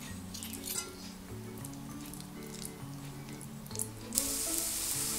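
Broccoli and chickpea fritters fry in a pan with a steady, close crackling sizzle that runs the whole time, over soft tonal music and with a few sharper pops near the end.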